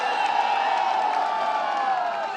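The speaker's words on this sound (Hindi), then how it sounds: "आप लोग इतनी तेज ताली बजाइए" Crowd at a political party workers' rally in Chauri Chaura, Gorakhpur, cheering and clapping together in a dense, sustained roar that stays steady and loud throughout.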